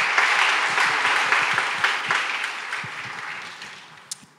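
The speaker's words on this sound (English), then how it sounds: "Another hand of applause." Dense, steady applause from a large audience at a formal ceremony, a continuous wash of many hands clapping that gradually tapers off near the end.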